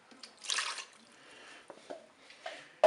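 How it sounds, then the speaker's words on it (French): Broth mixed with water and curry is poured into a Cookeo pot, giving a short, faint splash of liquid followed by a few soft drips and light clinks in an otherwise quiet kitchen. "Je vais verser le reste de mon petit bouillon avec de l'eau et du curry."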